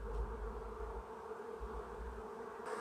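Honey bees buzz around an open hive in a steady, close, continuous drone with a low hum underneath, and no one speaks.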